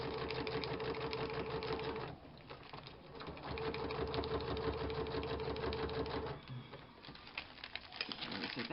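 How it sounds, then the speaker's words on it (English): Sewing machine set to a long stitch sewing through paper, a rapid steady mechanical chatter in two bursts with a short pause between, close and fairly quiet. "I usually put pretty long stitch on my machine. That way it doesn't cut through the paper"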